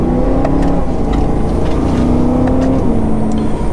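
A supercharged 2011 BMW E90 M3 accelerates at full throttle on a back road, its engine a loud continuous drone with rising whine tones, heard from inside the car with no talking.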